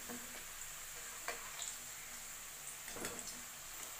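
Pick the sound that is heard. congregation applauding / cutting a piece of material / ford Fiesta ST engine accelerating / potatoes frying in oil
potatoes frying in oil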